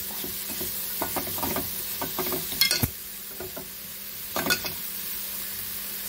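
Jaggery melting in a pan on a stove over medium flame is stirred, with rhythmic scraping strokes in bursts over a soft sizzle, close and fairly loud.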